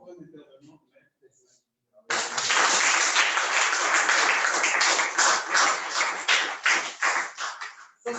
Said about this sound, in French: Mesdames et messieurs, une fois encore, je vous demande d'applaudir